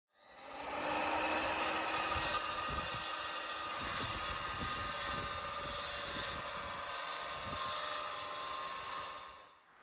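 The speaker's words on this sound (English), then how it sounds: "You then drop the blade to the correct depth of cut, and that allows you to make a nice, clean, smooth cut across the length of the tile." A portable saw cuts porcelain tile with a loud, continuous high-pitched whine. It runs up, holds steady for several seconds with slight grinding variations, then winds down. No one speaks.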